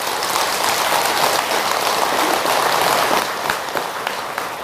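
Audience applause at a Buddhist monk's dharma talk, a steady dense wash of clapping that stays loud and even for the whole stretch with no voices over it.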